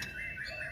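A caged pair of laughingthrushes gives a brief, continuous squawking call, close and moderately loud with a steady background hiss.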